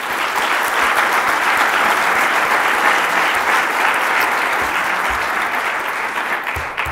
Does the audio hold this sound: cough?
no